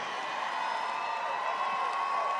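A large rally crowd at a Trump inauguration-eve event applauds and cheers for Kai, a steady wash of clapping and shouts heard from a distance.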